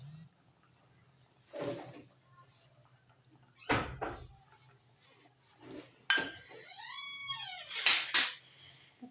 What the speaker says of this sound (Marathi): कोथिंबीर भाजीमध्ये मिक्स करून घेऊया